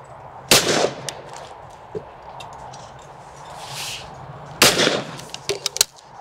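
A toy game gun fires in a clay-shooting game, giving two sharp, loud bangs about four seconds apart, each trailing into a brief noisy burst, with lighter clicks and taps between them.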